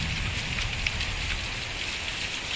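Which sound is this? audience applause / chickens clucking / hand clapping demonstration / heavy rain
heavy rain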